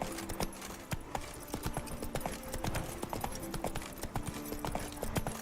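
Steady galloping hoofbeats of the horse Roach in The Witcher 3: Wild Hunt, a quick even rhythm of clops over soft game ambience, with no talk.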